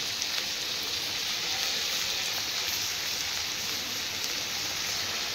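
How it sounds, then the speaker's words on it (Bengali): Ingredients fry in hot oil in a pan for dhokar dalna, producing a dense, even, close sizzle that holds steady throughout without pauses. "লাল করে ভেজে নেব।"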